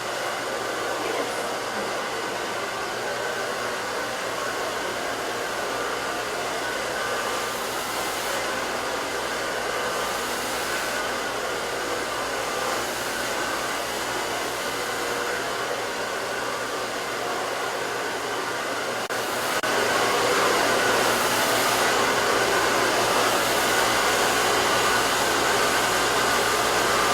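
A hair dryer with a slightly bent nozzle blows hot air steadily onto hair during a live styling session, held away from the roots. The continuous whooshing roar stays close and unbroken, and it grows a little louder near the end.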